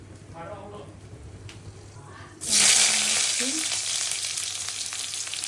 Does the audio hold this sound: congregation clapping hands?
no